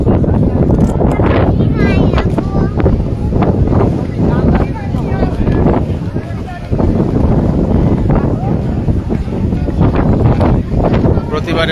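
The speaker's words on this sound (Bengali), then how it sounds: "বাতাস," Strong wind gusts buffet the microphone at a riverside viewpoint by the water, a loud steady roar with low rumbling bursts, and people talk and move nearby throughout.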